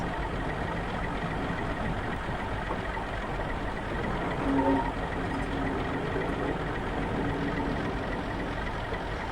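A Class 42 Warship diesel-hydraulic locomotive engine in a train simulator game runs with a steady, low rumbling drone that holds evenly throughout and swells only slightly once.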